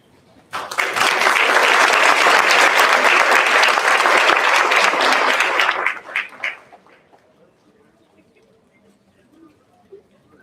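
An audience at a special board meeting breaks into loud, dense applause that holds steady for about five seconds, then thins to a few scattered claps and fades into a quiet room.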